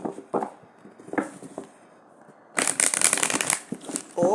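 Tarot cards being shuffled and drawn during a reading: a dense, continuous riffling flutter of cards at close range, running for about two seconds. Soft handling taps and a voice come before it.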